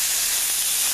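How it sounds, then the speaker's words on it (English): Onions frying with salt in a pan for a South African meat casserole give off a steady, close, even sizzling hiss that runs unbroken through the short moment, with no talking. "frying onions with the salt comes out better"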